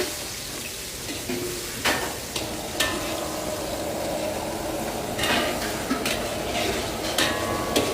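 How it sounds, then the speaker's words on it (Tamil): Onions sizzle and fry in a pan, with a steady crackle broken by several sharp scrapes and clanks of a utensil stirring. "வெங்காயம் நல்லா வதங்கணும்."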